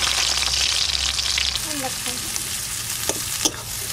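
Chopped onion sizzles steadily in hot oil at the start of a mutton curry, a continuous close frying hiss with a few faint tonal clinks and a small knock near the end.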